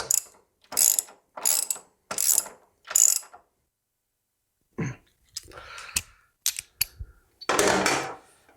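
A ratchet wrench tightens bolts on Indian Scout Sixty motorcycle shocks, clicking in five even, close bursts, then after a pause a looser run of irregular ratcheting and metallic handling.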